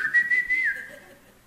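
A person whistles a short, clear note that holds steady and then slides down and fades, close and fairly loud.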